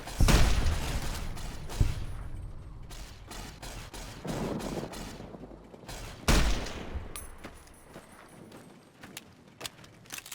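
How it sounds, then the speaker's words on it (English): Weapons fire in the Fallout: New California video game: scattered gunshots and bursts of varying loudness, several sharp cracks standing out among rapid fainter shots. "Firing weapons."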